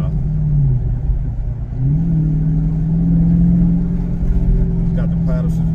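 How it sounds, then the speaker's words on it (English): A Dodge Charger Scat Pack engine accelerating hard, a loud, rising exhaust drone that climbs in pitch through the gears, heard close from inside the car with a voice speaking over it. "Like, I'm pulling hard, but I'm not speeding. The car just pulling off quick."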